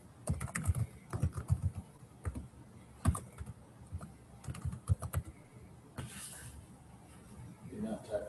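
Rapid clicking of fingers typing on a computer keyboard at a local DevOps meetup demo, bursts of keystrokes with short pauses, fairly close and clear, no talk over it.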